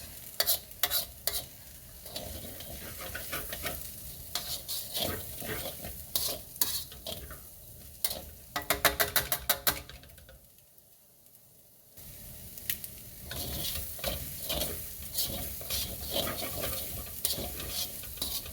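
Fried rice with fish sauce sizzles and fries in a pan under steady stirring, with scraping and clattering utensils, a brief quieter lull midway, then busy sizzling again.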